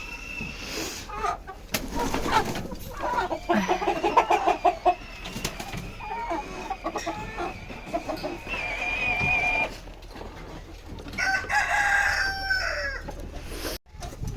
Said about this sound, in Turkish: Çoğu horoz gidici bunlar